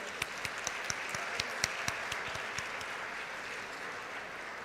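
Audience applause at a university convocation ceremony, steady crowd clapping with a few louder individual claps standing out, continuous and moderately loud.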